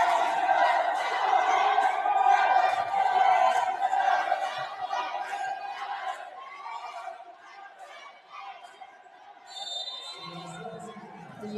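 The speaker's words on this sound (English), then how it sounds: "The UST is cheering really loud here in the Paco Arena" UST fans cheer loudly in the Paco Arena during a university women's volleyball match, a dense roar of crowd voices that swells and then fades, with a commentator talking over it.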